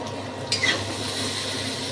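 Turmeric and chili powder fry in a pan over low gas, a soft steady sizzle with a brief scrape of stirring midway and a light clink of utensil against the pan.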